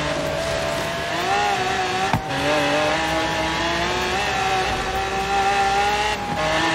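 In Forza Horizon 3, a car engine howls at full throttle on a highway, a loud sustained rising whine with a brief dip around a gear change, no talk over it.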